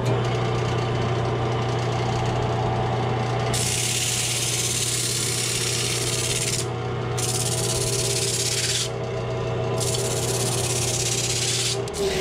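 Sandpaper pressed against a spinning man-made cherry burl bowl on a wood lathe, a steady motor hum with bursts of loud abrasive hiss that start and pause several times.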